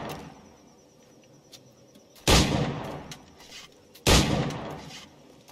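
Two sharp, loud gunshots in the video game Assassin's Creed IV: Black Flag, spaced about two seconds apart, each with a short ringing tail over quiet ambience.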